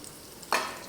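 Curry leaves and fennel seeds hit hot oil in a pan, setting off a sudden close hiss that bursts up sharply and then trails into a steady sizzle.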